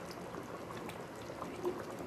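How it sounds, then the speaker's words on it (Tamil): Soft, faint bubbling of a thick fish curry simmering in a pot, with small irregular pops throughout. "நல்லா கொச்சிக்கிட்டு இருக்கு"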